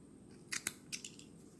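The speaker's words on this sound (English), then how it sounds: "I'm going to take my snippers or scissors and I'm going to cut the green loops" Scissors snip through green crochet yarn loops on a handmade doll, giving a few quick, close, crisp cuts in short clusters against a quiet background.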